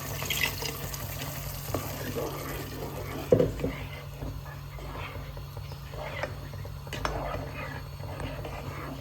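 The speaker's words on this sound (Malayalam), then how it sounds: "മിക്സി കഴിഞ്ഞ് കുറച്ച് വെള്ളം കൂടെ ഒഴിക്കാം" Water added to a pan of roasted-coconut kappa masala with chicken, a soft pouring and bubbling under scattered clinks and knocks of utensils, fairly quiet and close.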